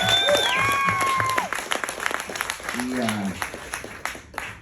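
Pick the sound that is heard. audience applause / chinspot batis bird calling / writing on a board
audience applause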